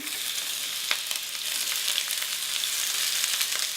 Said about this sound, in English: you're just gonna fry these up for about 5 to 6 minutes until they're a little bit translucent